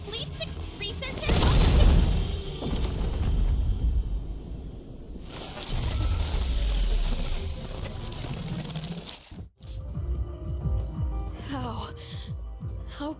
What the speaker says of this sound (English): Where did this explosion come from?